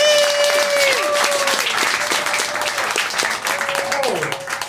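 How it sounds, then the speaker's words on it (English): A magic show audience claps warmly, a steady burst of many hands, with a voice talking over it and a sustained musical tone that bends downward near the end. "everybody give Stephanie another big round of applause"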